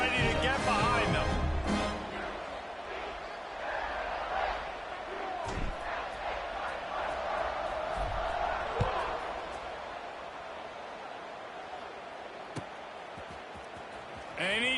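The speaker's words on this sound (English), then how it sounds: "this crowd now ready to get behind them" A football stadium crowd waits for a kickoff after an extra point, opening with a loud burst of noise and then settling into a sustained, moderately loud roar of cheering that carries on for the whole stretch.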